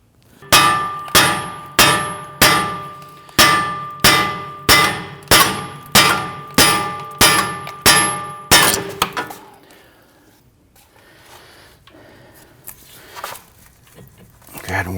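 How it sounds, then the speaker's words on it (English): A brass punch hammered against the CV axle of a Volvo XC60 during front wheel bearing and hub replacement, ringing out in about a dozen close, evenly spaced metallic clangs that then stop, leaving quiet shop noise. "Just using our brass punch in there."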